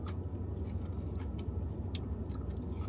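Someone chews crunchy deep-fried dill pickle fries dipped in ranch, close and wet, with crisp crunches over a steady low background rumble.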